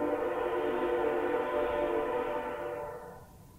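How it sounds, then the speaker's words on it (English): A train in the building game FortressCraft Evolved sounds one sustained, loud horn-like tone with stacked harmonics, holding steady for about two and a half seconds before fading away, with no talk over it. "Cue the train."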